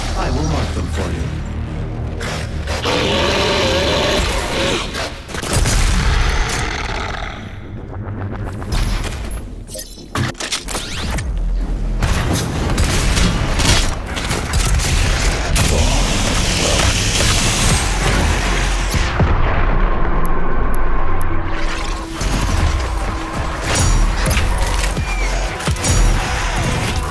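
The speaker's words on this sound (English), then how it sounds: "You could use both turrets to clear a path." Turrets firing to clear a path in Doom Eternal: loud, continuous heavy gunfire with booms, thuds and crashing impacts, under and between speaking voices.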